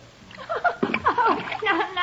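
Hands reach down into bath water in a radio drama, splashing and sloshing in a few close, uneven bursts while a voice murmurs briefly alongside.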